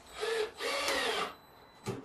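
A drill drives a screw into plywood, whirring in two close bursts and then a brief third burst, with no talking.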